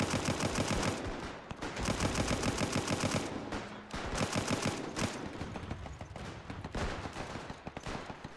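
Machine guns fire in the Between Empires WW1 video game, with long rapid bursts of gunfire broken by short pauses and overlapping distant shots, loud and continuous throughout.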